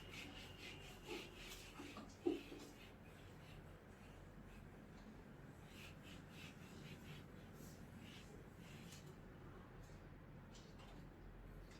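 Writing is wiped off a classroom board with steady, continuous rubbing strokes that stay faint and even for about twelve seconds, with one brief knock early on and no talking.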